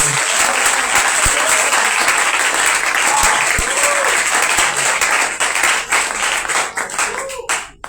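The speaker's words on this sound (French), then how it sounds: "Est-ce qu'on peut encore acclamer le Seigneur?" A church congregation at a conference applauds the Lord, loud sustained clapping and cheering that fills the room, then thins out and tapers toward the end.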